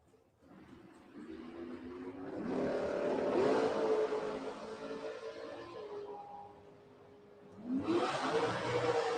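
Drag race cars at Gainesville Raceway in an ET series race, a third-gen Camaro among them, launch down the strip. Engines rev and roar at moderate distance, building, dipping, then surging again with no talk.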